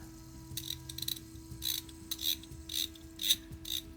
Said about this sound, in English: Just lube up that little ratchet and spring assembly.